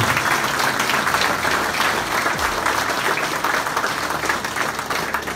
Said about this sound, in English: a nice round of applause for these gentlemen